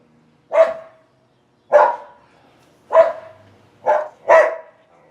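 Five loud, close barks from a pit bull walking with its owner, sharp separate yaps with short gaps between them and the last two coming quicker, with no talk over them.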